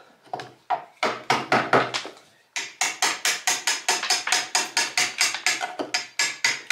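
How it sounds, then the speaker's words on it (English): Sharpened old chisel forcing out old window putty, a rapid series of sharp tapping knocks in two runs, with a short pause between them, close and fairly loud, no voices. "Now I can use this chisel"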